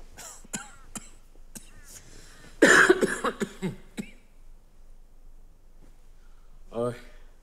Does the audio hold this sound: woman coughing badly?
yes